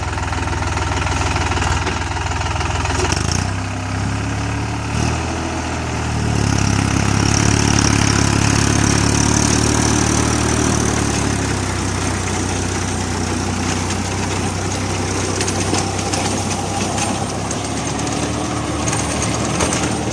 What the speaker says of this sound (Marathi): आता चालू करू आपण ट्रॅक्टर.